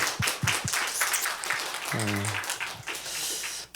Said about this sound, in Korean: 우리 집사님께 한 번 더 박수 드리겠습니다